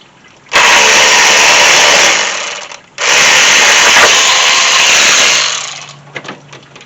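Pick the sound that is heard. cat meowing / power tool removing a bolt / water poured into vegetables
power tool removing a bolt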